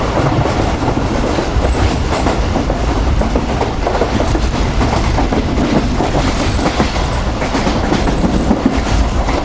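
The Pak Business Express runs on the Karachi–Lahore line, a loud, continuous roar of wheels on rails with rhythmic clickety-clack over the joints, close and steady throughout.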